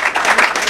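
A brief burst of dense audience applause during a speech in Saint Louis, loud and close, rippling with many hands clapping together.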